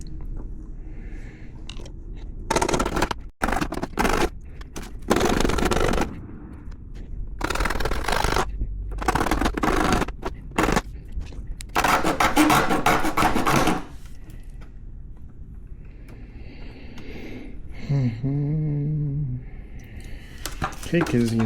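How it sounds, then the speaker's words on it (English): A hacksaw rasps through soft material in several bursts of quick back-and-forth strokes, fairly close, with pauses between the bursts and a voice speaking near the end. "You can see the hacksaw just cuts right through this stuff like butter."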